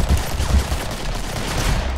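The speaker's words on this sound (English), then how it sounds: "I shot your arm off" Gunfire in the video game Killing Floor 2, a dense, continuous rattle of overlapping shots and low booms, loud and chaotic throughout a short stretch.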